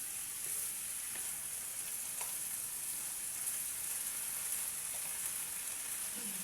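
Steamed food frying in a pan gives off a steady, even sizzle and hiss that holds for the whole stretch with no talking, only a few faint ticks and pops over the crackle.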